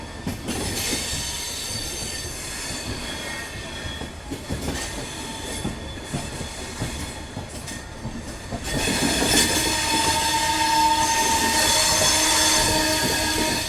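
Vikramshila Express train running on rails on a nonstop stretch: a loud, continuous roar of wheels with metallic squeal and clatter, growing louder and harsher partway through, heard from close by.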